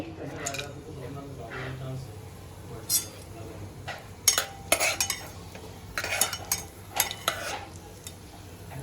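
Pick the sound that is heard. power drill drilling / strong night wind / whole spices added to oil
whole spices added to oil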